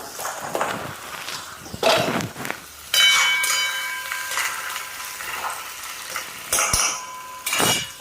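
A spatula scrapes and clatters against a wok while onion and whole garam masala are stirred, in irregular metallic bursts with quieter gaps between.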